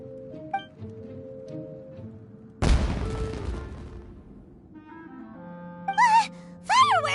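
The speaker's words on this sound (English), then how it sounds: "It sounded like fireworks." Fireworks burst in the Genshin Impact video game: a sudden loud crackling blast after quiet background music, followed by fading rumble and then rising whistling tones.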